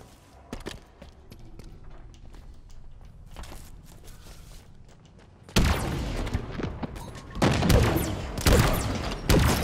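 Cinder Shot weapon fire in Halo, a quiet stretch of soft thumps giving way after about five seconds to loud, dense bursts of shots and blasts that keep going to the end.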